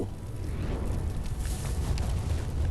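Explosion sound effect from the video game Arknights, a loud sustained rumbling roar with heavy low-end boom filling the whole moment, steady and dense throughout.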